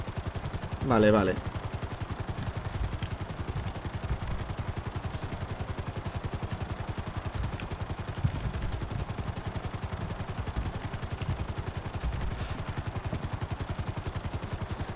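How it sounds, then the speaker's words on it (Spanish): Police helicopter in GTA V with the LSPDFR police mod, a steady rapid rotor chop running throughout at moderate level, with a brief spoken word near the start. "El helicóptero vamos a hacer que aumente un poquito más."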